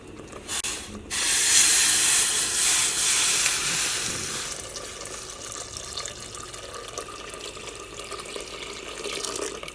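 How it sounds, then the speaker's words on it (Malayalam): Hot boiling water pours into a pressure cooker of egg biryani rice, a loud rushing splash for a few seconds that settles into a softer steady hiss, with no talking. "ഇതിലേക്ക് നമ്മൾ റൈസ് വേവിക്കാനുള്ള വെള്ളം ചേർക്കുകയാണ്"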